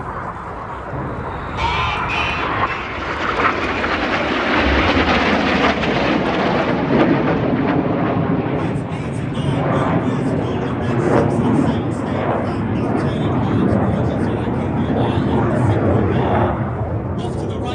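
RAF Red Arrows jets dive low past the airfield at an air festival display, a loud sustained roar swelling and sweeping across with a public-address commentator talking over it.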